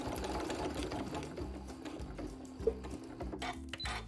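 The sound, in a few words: sewing machine back stitching Velcro onto fabric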